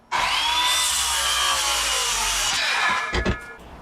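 A power saw cuts the end off a wooden log in one continuous, loud, close cut of about three seconds, ending with a few rough bursts as the piece comes free.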